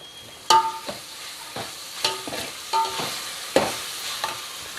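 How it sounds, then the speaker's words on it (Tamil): Mint leaves sautéed with ginger-garlic paste in a pan for an egg curry: a light sizzle with repeated sharp spatula scrapes and taps at an uneven rhythm, close and fairly quiet. "இதோட கொஞ்சம் புதினா போட்டுங்க. அதில் போட்டு அதையும் நல்லா வதக்கி விட்டுருங்க."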